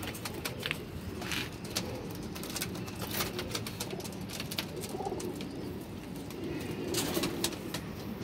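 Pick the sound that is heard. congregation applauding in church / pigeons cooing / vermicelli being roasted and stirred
pigeons cooing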